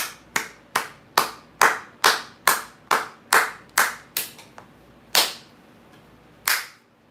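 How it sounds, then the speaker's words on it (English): A single person claps slowly and sharply, about a dozen crisp, evenly spaced claps close up, with the last few coming at longer gaps, and no other sound around them. "Someone please give me a round of applause."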